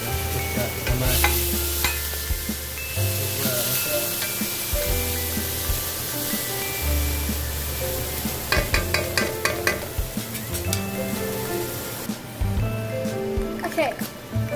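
Chopped tomatoes (kamatis) sizzle in a hot pan for pork binagoongan while a utensil scrapes and stirs them repeatedly, the frying hiss steady and close, with people talking over it.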